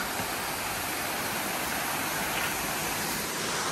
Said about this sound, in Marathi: येथे पाऊस जरा कमी असल्यामुळे छोटा धबधबा आहे